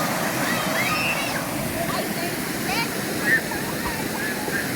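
Waterfall pouring continuously into a green-water pool in Bahia, Brazil, a steady broad rushing and splashing roar close by, with faint voices in the background.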